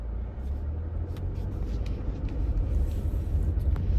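A 2024 Subaru Crosstrek driving, a steady low road and engine rumble with tire noise heard from inside the car, no talking.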